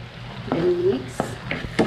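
Garlic and onion stirred in melted butter in a pan, a soft sizzle under a few scraping and clinking strokes of the utensil against the pan, with a brief voice sound.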